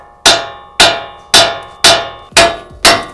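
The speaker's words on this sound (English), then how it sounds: "Now with the BFH, you just tap on the outside of your spindle" A heavy hammer strikes the outside of a Toyota 4Runner steering spindle six times in a steady rhythm, each sharp metallic clang ringing briefly before the next, close and loud with no talking.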